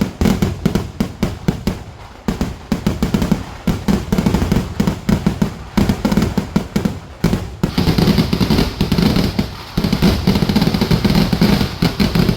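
A dense barrage of fireworks at a Kerala temple Thalappoli festival, with rapid loud explosive bursts cracking continuously and almost without pause, booming close and overpowering.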